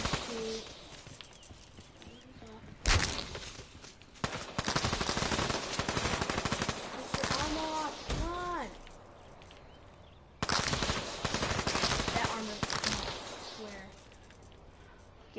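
Rapid automatic gunfire crackles in loud bursts as zombies are shot in a video game, broken by quieter gaps, with people talking throughout.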